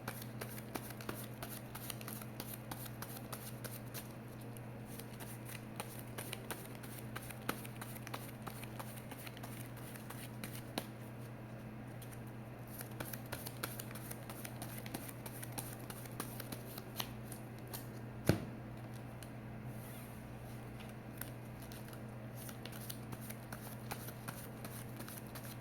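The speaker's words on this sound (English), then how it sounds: "you could expect card shuffling, card ruffling" Magic: The Gathering cards from an elf deck being shuffled and handled close up, a quiet continuous patter of dense small flicks and riffles over a faint steady hum, with one sharper snap near the end.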